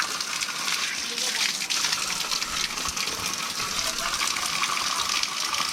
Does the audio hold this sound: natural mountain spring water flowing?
yes